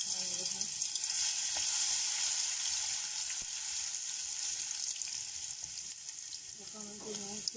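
Garlic frying in oil in a pan, a steady, moderately loud crackling hiss with occasional faint scrapes, fading slightly toward the end.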